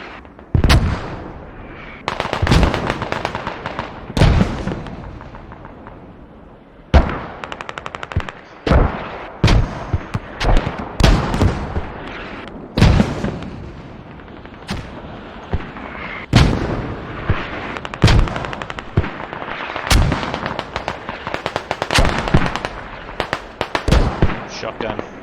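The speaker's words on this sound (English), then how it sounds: "That's a nicer set of mortars." Mortar fire and other gunfire in a competitive shooter match, dense rapid reports and booming blasts, some rolling in bursts and some single, loud throughout with commentators talking over them.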